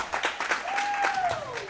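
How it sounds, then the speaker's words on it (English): The whole BYU team cheers and claps in the background at a national intercollegiate championship, a steady crowd wash of applause and a whistle, with a voice talking over it. "You hear the cheer in the background. That's the whole BYU team."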